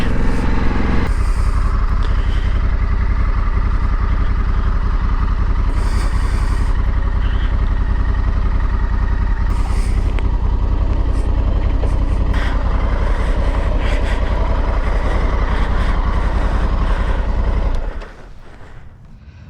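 Honda Africa Twin 1100cc off-road motorcycle riding, a loud, steady engine drone with road and wind noise throughout, cutting off abruptly near the end.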